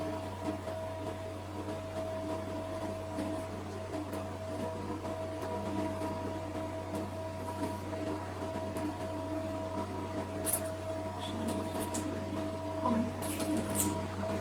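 An NS-H15 blackhead vacuum suction device runs with a steady, even electric hum and whir for the whole stretch, broken only by a few small clicks and squishy contact noises near the end.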